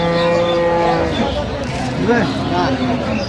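A cow lets out a drawn, low moo at a busy rural cattle market where cows and calves are being sold, with other bellows and crowd chatter around it.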